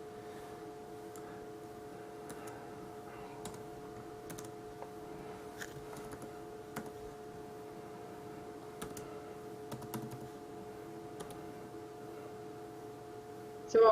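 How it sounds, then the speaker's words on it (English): Someone entering a phone number on a computer keyboard, with scattered quiet clicks and taps over a low steady electrical hum, without talk. "typing in a phone number"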